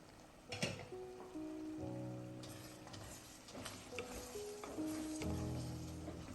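Beef roast with curry leaves being stirred in a pan, a soft scraping and sizzle running steadily throughout, with a few louder clinks and scrapes of the spoon and background music tones.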